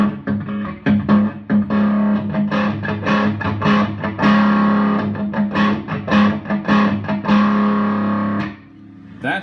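Open chords strummed on an electric guitar through a Fender Bassbreaker 45 combo amp at high gain with a reverb pedal in front, loud and distorted with rhythmic strums, then a brief reverb tail as the playing stops.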